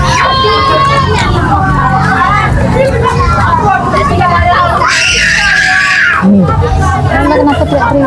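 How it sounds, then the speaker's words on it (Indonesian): Loud screaming and shrieking voices fill a busy cafe at night, layered over crowd babble and chatter throughout, with a sharper high-pitched burst toward the end. "Kenapa teriak-teriak?"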